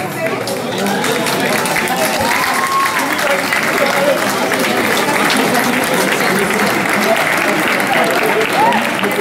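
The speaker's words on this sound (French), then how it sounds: "On applaudit très fort" Continuous, dense audience applause fills a hall during a trophy presentation at a regional French federation's general assembly, with crowd murmur and a few voices mixed in throughout.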